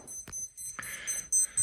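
An electronic timer alarm sounds in a few sharp, loud beeps in quick succession, ringing out alone with no voices.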